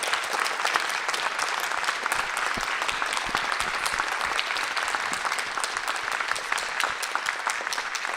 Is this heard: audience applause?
yes